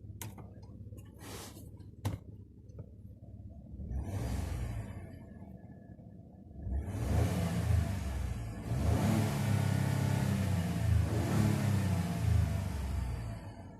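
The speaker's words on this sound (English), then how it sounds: "let's go ahead, hop inside, do a few revs, and see how it sounds." A 2016 Ford F-150 XLT Sport V6 revs from inside the cab. A few clicks come first, then the engine starts, idles, and climbs through several loud, sustained revs close by.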